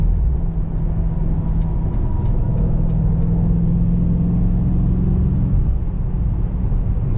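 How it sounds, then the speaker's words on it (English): A BMW M8 Competition cruises on an evening drive, heard from inside the cabin as a low, steady engine and road rumble with a strong bass tone. The engine eases slightly toward the end. "I'm gonna let y'all hear this car"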